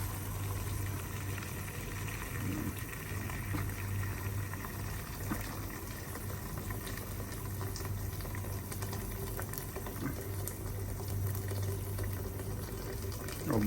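Water in a pot comes to a boil for pancit bihon, a steady rolling bubble and hiss that runs unbroken and fairly loud throughout, with no voices.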